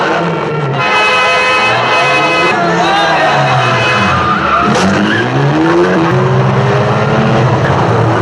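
Car chase from the film Le Casse, with revving engines and tyre skids over continuous dense action-scene sound; voices are present and a car drone sweeps up and down throughout.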